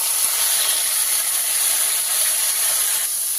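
Boiled fish dropped into hot oil with dry chilies and nigella seeds gives a loud, constant sizzling hiss from start to finish, with no pauses and no voices.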